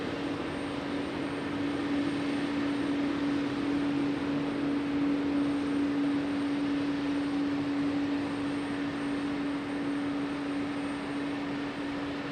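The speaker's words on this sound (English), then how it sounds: "Oh, it's another JetBlue A220." A JetBlue Airbus A220 jet airliner is heard as a distant, steady engine rumble with a sustained tonal hum, fairly faint and constant throughout, with no talking.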